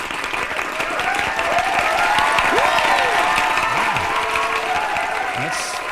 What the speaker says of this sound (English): That's more applause than we normally get.